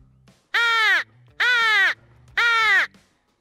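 A hand-blown crow call imitates a crow with three loud, harsh caws, each about half a second long and evenly spaced, close up and alone.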